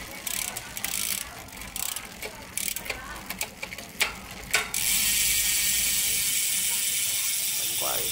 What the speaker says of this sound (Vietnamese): bánh quay rất là đành.